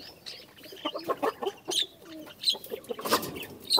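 A bantam rooster in a small backyard mini zoo gives a series of short, close clucks and chirpy calls in an irregular rhythm, with no talk over them.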